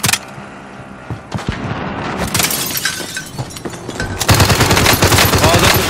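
Gunfire in a Call of Duty Warzone match: sharp single shots, then bursts of rapid automatic fire and crackling impacts, loud and close, building into dense firing near the end with a little talk mixed in.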